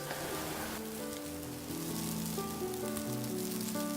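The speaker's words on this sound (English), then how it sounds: "pour the soy sauce directly onto the pan to help it grow more fragrant" Soy sauce sizzles in a hot pan of Japanese fried rice, a soft steady crackle and hiss running throughout, with faint sustained musical tones underneath.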